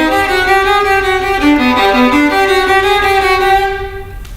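A violin playing a sustained phrase of a few notes with a crisp, clear bow attack at each start, close and bright, played alone and fading at the end.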